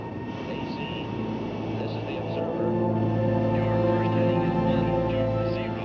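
Bomber aircraft fly over an Arctic radar base, giving a steady, heavy engine drone that swells slightly louder midway, sustained and continuous.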